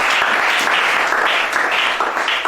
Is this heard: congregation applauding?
yes